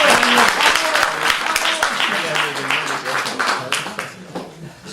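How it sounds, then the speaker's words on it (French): Lecture audience applauding at a university study day on hybrid training, a dense burst of clapping that fills the room at first and then thins out and fades, with some voices mixed in underneath. "Se fait applaudir."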